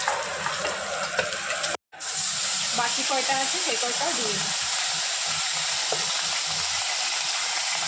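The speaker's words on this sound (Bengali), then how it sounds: "अभी बाकी जो मछलियाँ हैं उसको भी फ्राई कर लेते हैं।" Pieces of fish frying in oil in a pan, a loud continuous close sizzle and hiss with brief clattering of utensils, while a person speaks over it.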